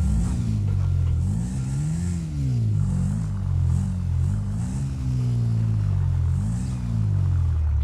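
A Honda CB500X motorcycle in GTA 5 revs repeatedly, its loud close engine rising and falling in pitch over a steady rumble.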